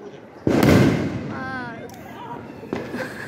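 Diwali firecrackers set off by neighbours on a rooftop burst with a sharp loud crack and a long rumbling tail, then a second bang follows a couple of seconds later, with faint whistling and voices in between.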